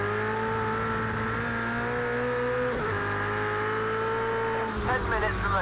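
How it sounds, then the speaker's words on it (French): A Porsche race car engine in the racing game Project CARS 2 drones at a steady high pitch, with a brief shift or pitch change midway and a roar of revving near the end. "la Porsche par contre est en train de revenir elle sur la voiture de tête de Melinda Neal."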